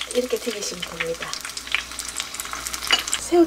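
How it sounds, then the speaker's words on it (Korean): Battered shrimp deep-frying in hot oil, a steady crackling sizzle with bright spitting pops running throughout, close and fairly loud, with faint bits of voice or stirring now and then. "이렇게 튀기시면 됩니다."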